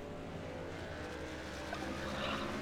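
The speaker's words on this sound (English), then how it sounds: "I really can't hear you. My engine's so loud." A race truck engine drones steadily in a truck-series racing video game at Martinsville, a continuous, fairly even roar throughout with no speech.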